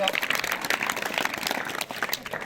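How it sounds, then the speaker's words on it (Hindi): Applause from a school audience welcoming a guest at a government intermediate college in Chamoli, Uttarakhand, a steady dense clapping with talk mixed in throughout. "तालियों के साथ हम स्वागत करेंगे श्री रावत जी का।"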